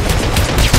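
Gunfire in the video game Hitman Absolution crackles as a dense, loud burst of rapid shots filling under a second.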